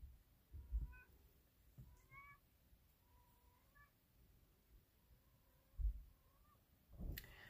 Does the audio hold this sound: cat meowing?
yes